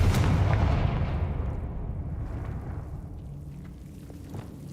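A Confringo blasting spell goes off in a video game as a loud, deep explosive boom that rolls and slowly fades over several seconds, with no voices.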